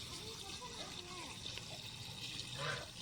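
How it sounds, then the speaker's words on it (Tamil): Plain water poured into a pot for quail gravy during outdoor village cooking, a steady soft trickle and splash running under people talking nearby. "ஃபஸ்ட்டில் பச்சை தண்ணி ஊற்றுறையா"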